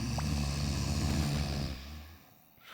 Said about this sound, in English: They're snoring. They're making as much noise as a couple of big hippos.